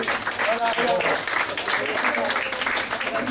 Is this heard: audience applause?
yes